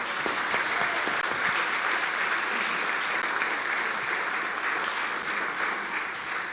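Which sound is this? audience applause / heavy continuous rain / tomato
audience applause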